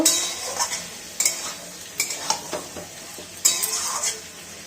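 Potato and cauliflower pieces are sautéed in a pan, with a soft sizzle under repeated spatula scrapes and clinks against the metal that come in irregular bursts, with no talking.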